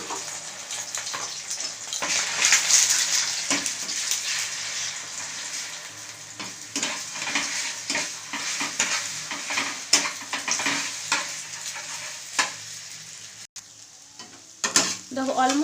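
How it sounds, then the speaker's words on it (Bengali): Eggs with a little salt sizzle loudly in an oiled pan, the steady frying hiss overlaid by repeated spatula scraping and stirring throughout, with no voices. "দুটো ডিম আমি একটুখানি নুন দিয়ে প্রথমে ভেজে তুলে নেব।"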